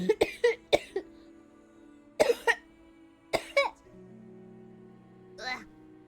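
A person coughs several times in short, harsh bursts, close up, with a steady tonal background underneath.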